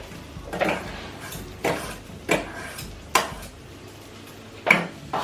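A spoon stirring butter into minted peas in a pot, several separate scraping clinks spaced out over a low steady background, with no talking.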